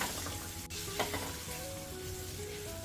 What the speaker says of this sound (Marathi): यामध्ये लसूण ठेचून घेतलाय हा घालते